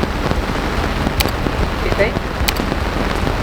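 Steady rain pours down on a sailboat at anchor in the Caribbean in a dense hiss with scattered droplet patters nearby, and a voice speaks briefly underneath.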